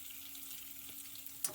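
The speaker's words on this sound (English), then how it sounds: "there's a lot of foaminess from the fat in the butter" Butter foaming and browning in a pan gives a faint, soft sizzle throughout, with one brief clink near the end.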